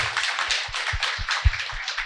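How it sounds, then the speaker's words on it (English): A short stretch of clapping from a group, a dense steady patter of hands with a few thumping knocks underneath. "give you guys a round of applause"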